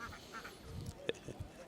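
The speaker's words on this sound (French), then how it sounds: "c'est un couple de oies gardiennes de Toulouse" Toulouse guard geese and mallard ducks at a farm exhibition give a few faint honks and quacks, short scattered calls including one sharper honk, heard at a distance with some quiet voices in the background.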